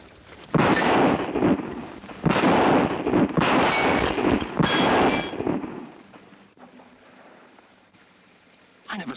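Gunshots fired at targets: three loud, sharp reports spaced about two seconds apart, each ringing briefly before fading into quiet.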